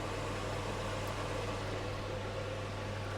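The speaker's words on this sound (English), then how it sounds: "It's a very good extractor, but it is rather noisy." A noisy kitchen extractor fan runs with a steady, loud, broadband whir and a low hum, unchanging and alone with no voices.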